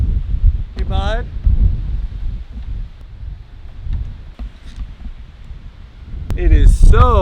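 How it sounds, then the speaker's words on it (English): High wind buffets a cabin site in Alaska, rumbling low and gusty across the microphone, while brief voices break in near the start and end. "Right now the wind's just picking up."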